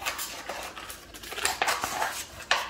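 Small scissors snipping around a blob of acrylic pour paint on a paper plate, a series of short crisp cuts and crinkles at close range with no voices.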